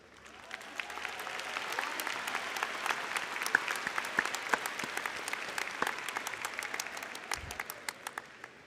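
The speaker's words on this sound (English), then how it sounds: "Round of applause." Graduation audience applause at a Butler Tech high school ceremony, a broad hall full of clapping that swells, holds steady for several seconds with sharp individual claps cutting through, then tapers off.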